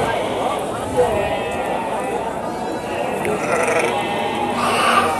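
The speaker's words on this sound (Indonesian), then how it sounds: "ini domba Garut bibitan bawa anak ya" Garut ewe with her lamb bleating among a livestock market crowd, steady murmur of voices and activity throughout, with the animal calls mixed into the busy background rather than standing alone.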